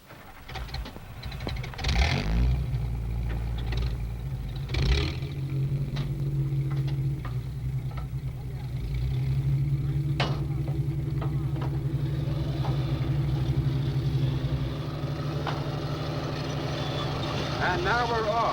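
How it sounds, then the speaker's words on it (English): Military armored personnel carriers rumble and rev as they move out, a heavy, continuous engine drone with clanks and metallic knocks up close throughout. "The other personnel carriers move out with us"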